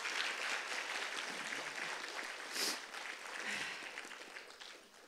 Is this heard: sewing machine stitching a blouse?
no